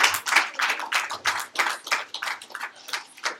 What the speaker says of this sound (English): If we could give these guys a round of applause.